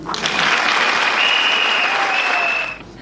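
An audience at a UNICEF vaccination gathering in Kwilu breaks into dense, steady applause lasting nearly three seconds, with a thin, high tone running through the middle before the clapping fades out.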